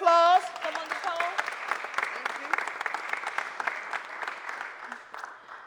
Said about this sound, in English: Give Nicole a round of applause.